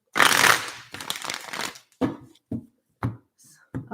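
Tarot cards being shuffled close up: a dense riffling burst, then a run of quick, separate slaps and taps as the deck is squared and handled.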